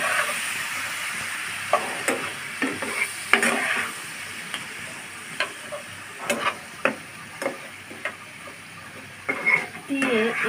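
Spice paste with vegetables and a splash of water stir-fried in a pan for a hilsa fish curry, soft sizzling under irregular scraping and stirring clicks of a spatula against the pan, close and moderate in volume.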